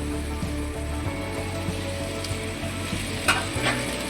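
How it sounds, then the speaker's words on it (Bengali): Potatoes and jackfruit stirred into hot spice paste in a pan give a steady, close sizzle and frying hiss, with a few scraping stir sounds near the end. "আলু এবং এঁচড়টাও মশলার সঙ্গে খুব ভালোভাবে নেড়ে চেড়ে কষিয়ে নেব"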